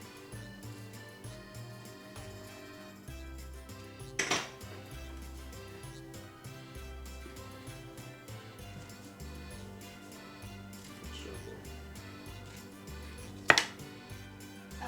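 Utensils scrape and clink against a container as food is scraped out while shrimp cocktail is prepped, a quiet, busy run of small metallic taps with two sharper knocks.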